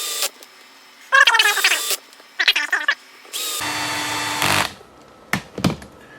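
A power driver runs screws into a Losi 5ive-T differential in several close, loud whirring bursts of varying length separated by short quiet gaps.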